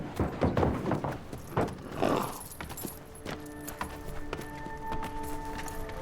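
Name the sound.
bay horses' hooves clip-clopping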